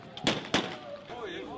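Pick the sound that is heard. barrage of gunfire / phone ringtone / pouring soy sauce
barrage of gunfire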